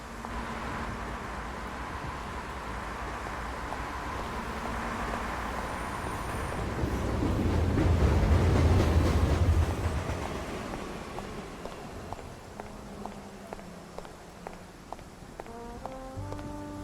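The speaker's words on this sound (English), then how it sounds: "The subway, at this hour of night." A subway train rumbles past at night in the Face Noir video game, swelling to a loud roar midway and then fading into a quieter rattling, with no talk over it.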